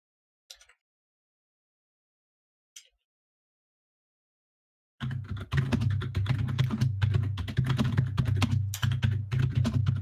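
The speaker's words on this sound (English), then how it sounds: "So much typing." Rapid, continuous keystrokes on a computer keyboard fill the second half, close and steady, after a few isolated clicks amid near silence, during a PC match of Divisions; no talking.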